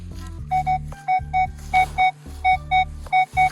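Metal detector in a forest sounding a repeated two-tone beep on a target signal, paired high pips over a steady low hum, close and clear, with no talking.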